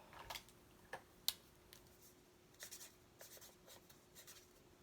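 Pen or marker strokes on paper while writing a label, heard as quiet scratchy bursts and taps spread unevenly across the moment, close by with no talking.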